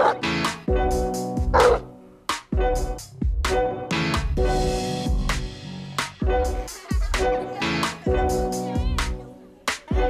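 A police dog at a training club barks repeatedly in loud, close bursts with short yips and whimpers between, while a person talks in the gaps.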